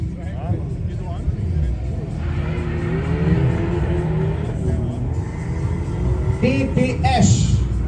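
A BMW 530d E61 with a 3-litre turbodiesel drag racing an Audi TTS 2.0 TFSI coupé: a loud, steady engine drone and rumble with rising revs, heard under continuous talk throughout.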